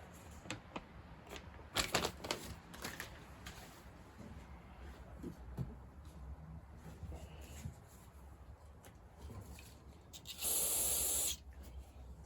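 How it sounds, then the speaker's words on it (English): Brake cleaner sprays from an aerosol can onto the flywheel taper of a chainsaw crankshaft, a single loud hissing burst of about a second near the end, after quiet rustling and handling of parts. "I like to take a little brake cleaner, and I like to clean the surface that the flywheel is going to go in"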